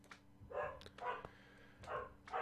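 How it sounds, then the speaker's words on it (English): A pet dog barking in short bursts around a home, three or four loud close barks spaced irregularly, with no talk over them. "Sorry, dog's barking."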